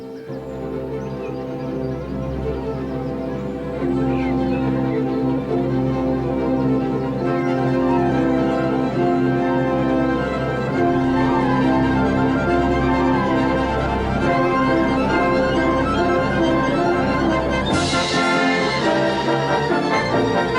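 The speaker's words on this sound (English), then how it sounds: "it's impossible to create a big orchestral sound like this" Big, full orchestral music with sustained layered tones over a deep bass, played steadily and loud with no voices.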